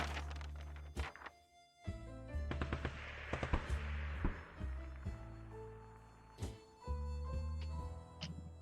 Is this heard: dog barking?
no